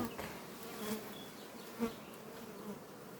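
Honeybees buzz steadily around a split hive made from a caught swarm, their hum filling the air close by with a few louder passes of individual bees.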